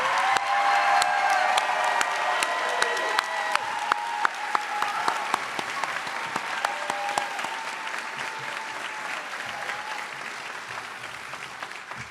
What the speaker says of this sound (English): I just want to say one more round of applause for this amazing group of future nurses